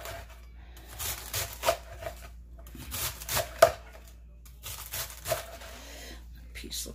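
A knife cuts through vegetables on a cutting board during chicken chow mein prep, with bursts of crisp crunching strokes grouped in short runs, close up.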